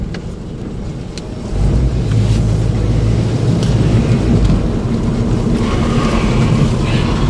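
An old truck's engine settles into a low idle, a steady deep rumble that steps up in loudness after a second and continues close and unbroken, with faint outdoor wind or rain noise.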